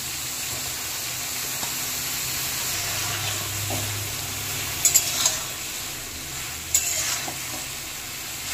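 Eggplant and ridge gourd fry in a hot pan with a steady, close sizzle and a few light utensil clinks near the end. No one speaks.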